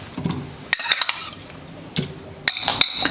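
Salad dressed with balsamic and lemon is tossed in a bowl, giving several bursts of clinking and scraping from the utensils against the dish, separated by short quiet pauses.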